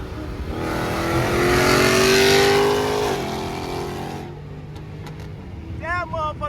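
A Dodge Hellcat roars past in traffic, its engine rising to a loud revving peak with a falling pitch as it passes, then fading into background noise, with voices shouting over it at the end.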